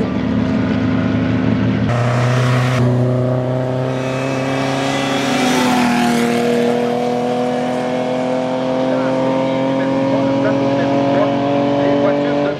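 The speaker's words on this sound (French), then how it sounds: "Des voitures monoplaces et sport proto." Single-seater and sports prototype race cars at the Marchairuz hill climb, engines loud and close as they rev and accelerate through gear changes, a sustained roar with shifting pitch lasting throughout.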